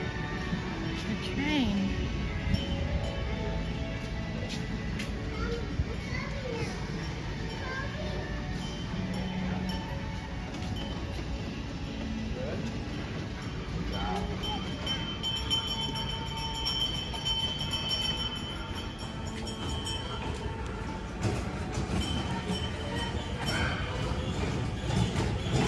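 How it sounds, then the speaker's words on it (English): A train rolls past near the Norfolk Premium Outlets in Virginia Beach, Virginia, a steady broad rumble lasting throughout, moderately distant, with people talking and scattered clinks over it. "Oh, the train is going."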